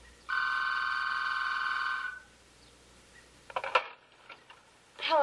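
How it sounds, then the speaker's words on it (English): A telephone rings with one sustained electronic trill lasting about two seconds in a quiet room, followed by faint clicks and handling noises as it is picked up. "the phone begins to ring"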